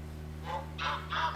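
Greylag geese honk in the game theHunter: Call of the Wild, three short calls in quick succession over a steady low hum, moderately loud.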